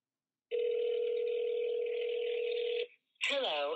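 A telephone line tone after a deliberately misdialed PayPal toll-free number holds steady and fairly loud for over two seconds, cuts off briefly, then a recorded voice starts speaking.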